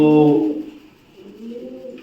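Pigeons coo in a short burst of low, rounded calls that are strongest at the start and then fade into softer, murmuring coos.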